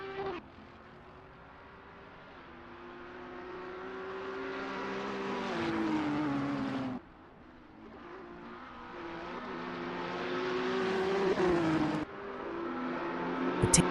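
Racing engines in a GT3 video game at Oulton Park roar continuously, revving upward in long rising sweeps, dropping sharply around gear changes or corners, then climbing again; loud, close and steady with no voices.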